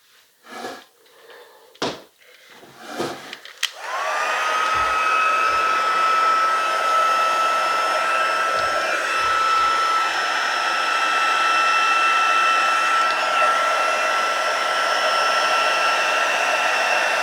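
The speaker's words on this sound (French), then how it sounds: "Je vais reprendre mon pistolet chauffant." After a few knocks and handling clatters, a heat gun for hot embossing a Christmas card switches on and blows with a steady, loud whooshing hum and a faint whine, running continuously to the end.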